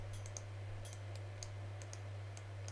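A computer mouse clicks several times at a steady, unhurried pace on a Plan 9 desktop, the small dry taps close and faint over a constant low electrical hum, with no talking.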